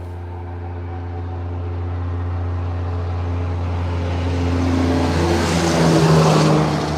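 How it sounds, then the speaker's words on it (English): Heavy street traffic passes outside an open window, a continuous low engine rumble and tire roar that swells gradually as a vehicle approaches, steady and fairly loud. "You can hear all my traffic. There's a lot of traffic."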